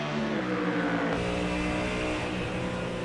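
A loud Ford Mustang race car engine roars steadily at high revs at Sebring, a deep continuous growl with no pauses and no talking.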